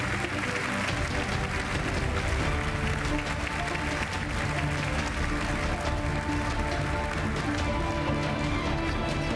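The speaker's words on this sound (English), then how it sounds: "Big round of applause for our winner in the non-EPO countries category, Dr. Akira Yoshino." An audience at the 2019 European Inventor Award ceremony applauds winner Dr. Akira Yoshino, producing dense, steady clapping that fills the hall loudly and continuously for several seconds without letting up.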